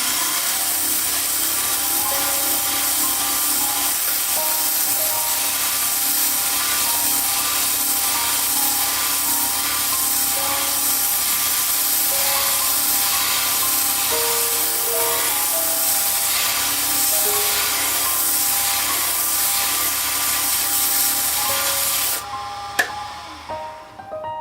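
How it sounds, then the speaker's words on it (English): Steady hand sanding of a wooden wand with fine 320-grit sandpaper, a continuous close rubbing hiss with faint rhythmic strokes that stops near the end. "A little bit more sanding down here,"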